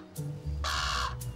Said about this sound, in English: Rowena crows when she's hungry